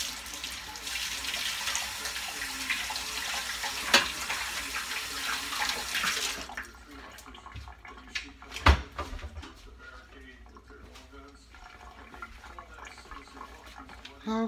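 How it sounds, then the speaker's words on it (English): Tap water runs steadily over hands being rinsed at a kitchen sink while turkey salad is made, a broad hiss that stops partway through, followed by quieter kitchen handling sounds and a sharp clunk. "let me rinse my hands."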